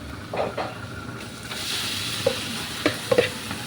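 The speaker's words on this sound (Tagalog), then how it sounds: "Ilalagay na natin tong ano, yung ginayat-gayat na laman loob." Chopped pork innards hit a pan of browned onion, garlic and ginger with a rising steamy sizzle. Scraping stir strokes come early, then several sharp clicks of a utensil, with no talking.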